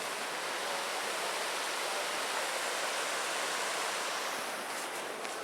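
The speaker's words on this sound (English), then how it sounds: "Merced River." The Merced River in Yosemite rushes steadily along a snowy trail toward Vernal Fall, a constant broadband roar of flowing water with no breaks and no voices.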